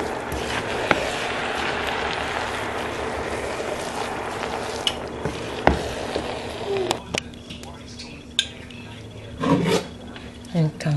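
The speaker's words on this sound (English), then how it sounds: "And you stir." Coconut rice is stirred in a pot with a little added water, giving a steady close scraping, rasping rub with a few sharper knocks and clinks near the end, and no talking.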